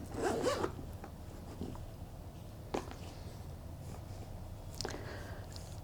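A zipper on a tote bag pocket is pulled in a brief rasping run at the start, followed by softer, faint handling clicks and rustles of the bag in a quiet room.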